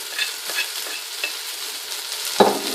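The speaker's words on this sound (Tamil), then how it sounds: "ஆட் பண்ணி சும்மா ஒரு மிக்ஸ் கொடுங்க" Turmeric, chilli and coriander powders with garam masala frying in a pan for prawn biryani, a loud close sizzle with quick stirring scrapes and a sharp clatter near the end.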